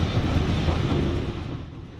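A heritage train on the Nene Valley Railway rumbles steadily and fairly loud, a continuous low roll of carriages on track that eases slightly toward the end.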